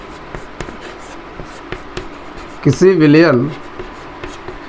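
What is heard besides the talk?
writing on a board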